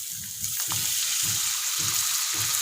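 Water poured into a pan of hot separated oil for soto betawi coconut-milk broth, giving a loud, steady sizzle with a rhythmic low stirring or pouring pulse throughout, no voices.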